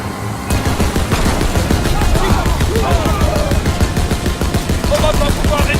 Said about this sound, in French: Je me mets à la mitrailleuse.